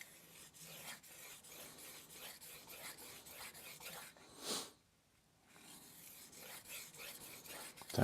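A knife blade rasps in steady, repeated strokes across a Suehiro Cerax 1000 vitrified whetstone, close and fairly quiet, with a brief pause midway before the rhythmic scraping resumes.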